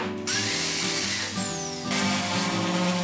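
A power drill or similar power tool running while sheetrock is put up in a home under repair, a steady motor whine with a rising and falling pitch sweep, changing load partway through.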